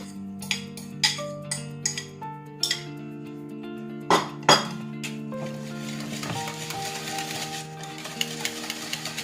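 Banana pancake batter is stirred in a bowl, with a utensil clinking sharply against the dish in quick uneven strokes. The strokes settle into a softer, continuous mixing scrape, and a faint tonal background hum runs throughout.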